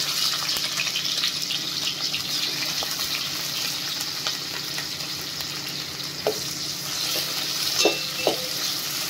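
Onions and green chillies fry in a pan with a continuous close hiss, punctuated by faint clicks and a couple of brief stirring scrapes near the end.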